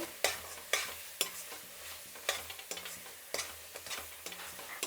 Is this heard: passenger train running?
no